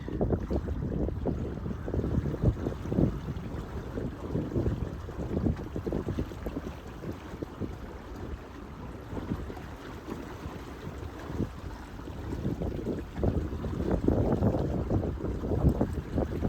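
An O'Day Javelin sailboat running downwind in a breeze on Flagstaff Lake, with steady rushing water along the hull and gusty wind buffeting the microphone throughout, close and continuous.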